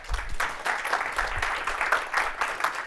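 An audience at an AI conference session claps together in steady applause, moderately close and filling the room, with no talk over it.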